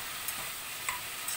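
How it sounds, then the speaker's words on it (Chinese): Pork, carrot and cabbage frying in a little salad oil in a pan give off a steady, soft sizzling hiss with a few faint clicks on top. "把猪肉放到锅里翻炒，加入胡萝卜、白菜"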